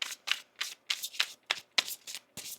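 Tarot cards being shuffled by hand, heard up close as a quick series of crisp riffling bursts and soft slaps in an uneven rhythm, with no voices.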